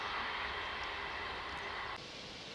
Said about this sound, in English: Train just going past in the distance.